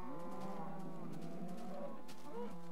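Cows in Minecraft with the Sim-U-Kraft mod moo several times in a row, drawn-out and overlapping lowing calls that sound fairly close, with no speech.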